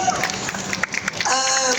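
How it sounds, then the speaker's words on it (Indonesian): An audience at a film talk session claps for two young filmmakers, Kevin and Rafki. The applause rises in a short, dense burst, with a voice speaking over it near the start. "Jadi tepuk tangan dulu buat Kevin sama Rafki."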